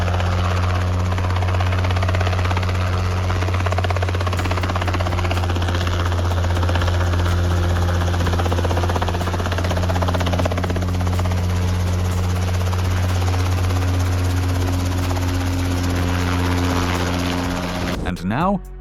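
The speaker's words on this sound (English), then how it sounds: "Safari Kit Helicopter." A Safari kit ultralight helicopter's rotor and engine drone loudly and steadily throughout, a constant close thrum with a deep low pulse, cutting off near the end.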